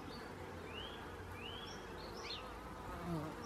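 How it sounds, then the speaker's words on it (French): A dense, steady hum of many honeybees buzzing together at a Warré hive in February, heard close with a constant drone and no voices. "les abeilles s'agitent"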